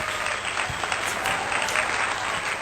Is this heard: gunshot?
no